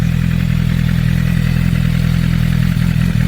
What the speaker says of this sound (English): So this is how it sounds. That's how the bike sounds.